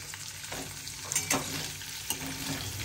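Paneer cubes lightly frying in a pan for a restaurant-style kadai veg dish, giving a steady soft sizzle with a few brief louder crackles and stirring clinks, close and continuous with no talk.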